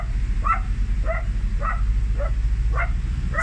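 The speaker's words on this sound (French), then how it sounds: "Les chiens qui s'affolent là." Several sharp dog barks and yips, about six in a row at a steady pace, standing out over a constant low rumble.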